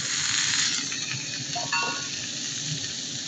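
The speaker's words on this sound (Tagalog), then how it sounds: "Nalusaw na ang butter, is isusunod natin ang mais." Corn kernels tipped into melted butter and hot oil sizzle loudly and continuously in a pan, a steady close frying hiss with a few faint clinks of utensils.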